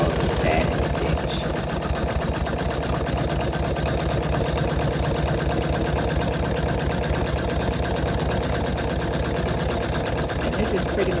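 A Husqvarna Viking Sapphire 85 sewing machine runs a satin stitch, its motor whirring in a steady, rapid needle rhythm close up for the whole stretch, with a voice talking over it throughout.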